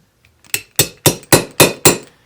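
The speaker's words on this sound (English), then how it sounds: "First thing we're going to do is we'll put the pins in." Six sharp, evenly spaced metallic hammer taps ring out up close as pins are driven into a stainless Colt Python revolver, each with a brief ringing decay.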